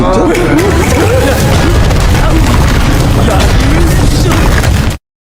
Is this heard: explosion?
yes